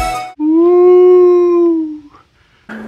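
A dog gives one long, loud, sustained howl that holds steady and then slides downward and fades, followed by a brief pause and a short rough sound at the end.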